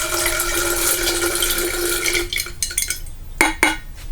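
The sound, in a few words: speckled peas being put to soak in water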